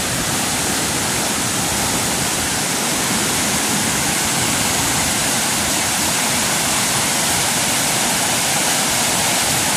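Flood water rushing loud and steady after heavy rain in the Philippines, a dense broadband roar that never lets up, with no voices over it.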